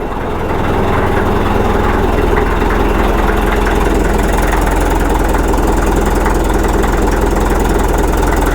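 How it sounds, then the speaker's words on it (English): A cold Caterpillar D4-7U bulldozer engine, started without a pony motor or ether, idles fast with a steady, loud diesel rumble that holds constant throughout, with no one talking. "Started up and idled really fast."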